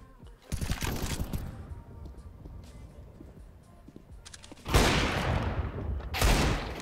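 Gunfire bursts in a Counter-Strike: Global Offensive match, a loud volley near the start and two more toward the end, with quieter game ambience and faint shots in between.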